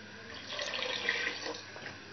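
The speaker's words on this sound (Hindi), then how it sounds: "मैं भी थोड़ा सा पानी और ऐड करूँगी" Water poured into a cooking pot while making kadhi pakora, a steady splashing stream running for about two seconds at moderate, close range, with no talk over it.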